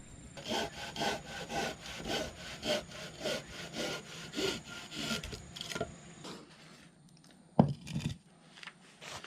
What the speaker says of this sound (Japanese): いつものヤマジンを引っ張り出して、塚のサイズにカットします。